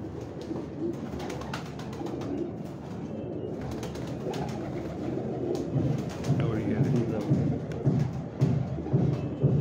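Pigeons in a rooftop loft, including a red Lal Badshah, keep up a low, repeated cooing under a continuous rumbling wash of background noise that swells toward the end.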